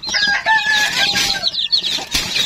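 Free-range chickens and a large flock of about thirty chicks cluck and peep close by, with high, overlapping chirps running continuously and a few louder calls breaking through.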